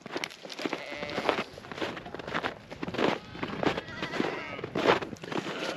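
Goats and sheep on a farm bleat repeatedly in overlapping calls, loud and close, with shuffling hoof steps and movement between the cries.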